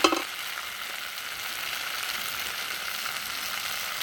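Spice masala for a curry sautéing in a pan, with a dense continuous sizzle and faint stirring, close and steady, without talk.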